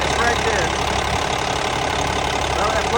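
A CAT 730 articulated dump truck's diesel engine idles just after starting. The close, loud, steady rumble is continuous and even over the whole stretch, and a voice may be faintly present beneath it.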